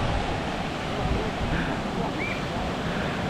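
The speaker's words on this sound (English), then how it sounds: "Actually, guys, the wind is very strong." Strong wind buffets the microphone over steady crashing sea waves on a Corfu beach, a dense continuous roar with no pauses.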